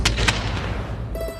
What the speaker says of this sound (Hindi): पटाखे कितने फूट रहे?